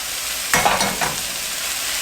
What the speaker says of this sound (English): I'm about to add it in and saute it with the garlic and the artichoke hearts.